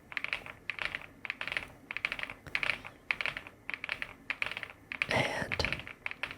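Someone types on an Epomaker Galaxy100 full-sized mechanical keyboard in steady bursts of crisp clicky keystrokes, close and alone, with one brief louder clatter near the end.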